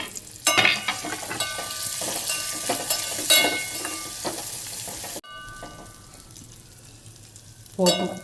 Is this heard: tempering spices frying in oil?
yes